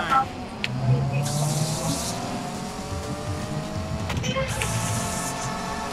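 A race car engine from the Need for Speed PC game revs and drones with rising and falling pitch, loud and continuous, with people talking over it.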